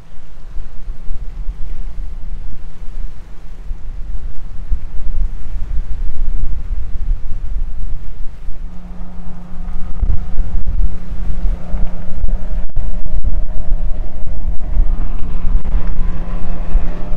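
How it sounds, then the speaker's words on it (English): Strong wind gusts under darkening skies on a lake island at Smith Mountain Lake, a loud, continuous rushing roar buffeting the microphone that builds in intensity partway through, with a low steady hum underneath. "With skies becoming darker and wind gusts becoming stronger"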